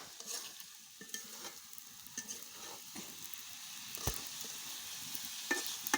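Food stir-fried dry in a pan, no water added, while rain-soaked days give way to cooking at home: a soft, steady sizzle with scraping stirs and occasional clinks of a utensil, near and moderately quiet throughout.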